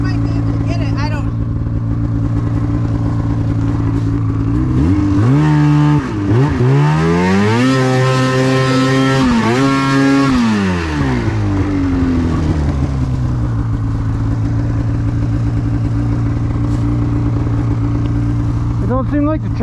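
A snowmobile stuck in a deep snow drift during a blizzard revs its engine hard, the pitch climbing and falling in one long sustained surge, loud and close. People talk over the steady motor.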